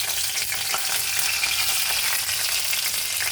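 Black cumin and green chillies sizzle in hot oil for a tempering, a continuous crackling fry with light stirring, moderately quiet and without talk.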